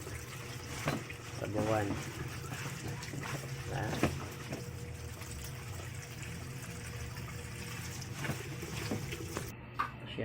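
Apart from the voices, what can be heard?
washing sweet potato leaves in water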